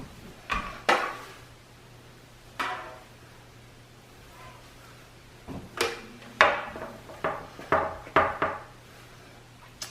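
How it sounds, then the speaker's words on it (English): Bacon strips set down one by one on a baking sheet in a home kitchen, giving a string of soft, close slaps and metallic taps in a loose, irregular rhythm with quiet pauses between them. "We're going to put our bacon on a baking sheet."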